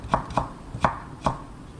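A knife slices firm carrot into thin julienne strips on a cutting board, four crisp, quiet chops spaced unevenly with no talking.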